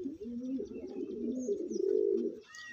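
Pigeons in a loft cooing, a low throaty warbling coo rolling continuously for a few seconds, fairly close and soft, with faint chirps near the end.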